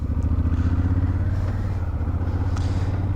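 Scooter ridden along a rural road in farmland near Çanakkale, Turkey, with a steady, close engine drone and a low rumble throughout and no talking.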